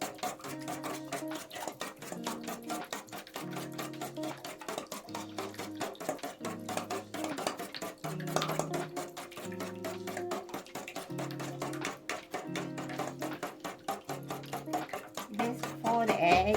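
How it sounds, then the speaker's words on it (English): Four eggs are beaten in a bowl, a quick steady run of metal-on-bowl clicks and taps against a background musical hum, continuing at an even rhythm throughout. "Let's beat the 4 eggs."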